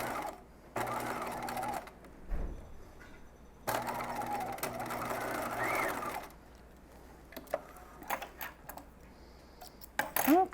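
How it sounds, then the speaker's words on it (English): A domestic sewing machine stitches a dress seam in two long steady runs separated by pauses, followed by scattered clicks and handling noises near the end. "And you can sew all the way to the bottom edge."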